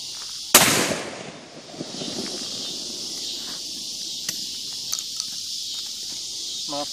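A single loud, sharp blast from a New England sawed-off 12 gauge shotgun fired outdoors, followed by a fading echo, with steady insect chirping in the background and no talking.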